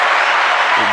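Loud, close applause during a podcast conversation, a short dense burst of clapping that ends abruptly.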